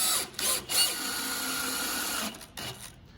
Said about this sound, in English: so it often works out quicker to pre-drill